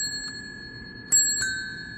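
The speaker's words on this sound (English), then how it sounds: "this very famous Pashley bell" A Pashley two-tone ding-dong bicycle bell on a Pashley Morgan 110 bicycle, large and heavy, rings clearly twice in quick succession with a steady sustained ring beneath, alone without talk.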